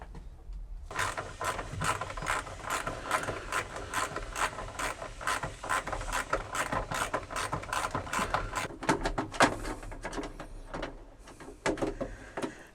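A ratchet wrench clicks rapidly and steadily as it undoes bolts on the heater unit of a Morris Minor, long bursts of dense metallic ticking close up, briefly slowing near the end, with no talking.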